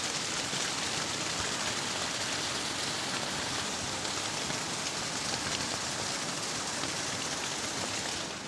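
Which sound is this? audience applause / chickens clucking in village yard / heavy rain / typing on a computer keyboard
heavy rain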